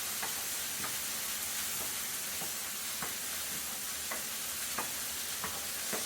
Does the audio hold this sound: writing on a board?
no